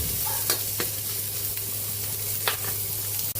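Onion added to a hot pan for a Filipino pork ribs kaldereta, giving a steady close sizzle with a few sharp stirring scrapes and clinks, no talking.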